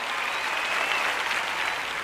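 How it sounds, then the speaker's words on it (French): A church audience applauds steadily and evenly, a dense wash of many hands clapping at once, heard alone for a couple of seconds. "Vous avez applaudi, c'est bien."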